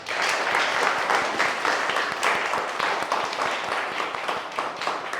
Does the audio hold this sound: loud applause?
yes